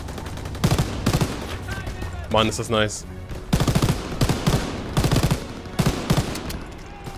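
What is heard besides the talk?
MG42 machine gun fire in video game Call of Duty WWII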